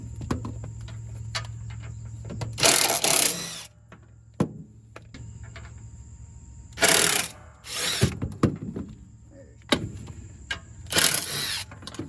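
Nuts are zapped off from underneath a Bad Boy Rogue mower deck parked on a trailer, with three or four loud, short power-tool bursts separated by quieter gaps, plus metallic clinks and handling noises.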